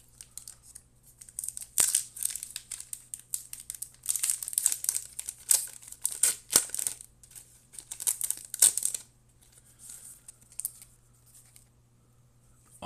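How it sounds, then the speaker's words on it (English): Foil wrapper of a Magic: The Gathering Bloomburrow play booster pack crinkling and tearing open, with bursts of close, loud crumpling and rustling in the first nine seconds, then fainter handling of the card pack. "let's see what we get out of our final Bloomburrow play booster of 14 cards with a guaranteed foil"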